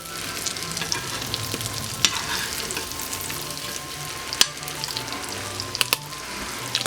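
Banana bread French toast frying in a pan gives a constant close sizzle with a few small pops and clicks over about seven seconds, without speech.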